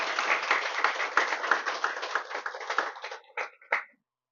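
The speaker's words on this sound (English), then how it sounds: "we should give them another round of applause" Indoor audience at a Juneteenth award ceremony gives a round of applause, dense clapping that thins out into a few last scattered claps before silence.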